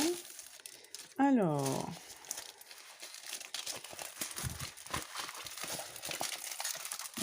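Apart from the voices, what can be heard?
crinkling plastic packaging of a diamond painting kit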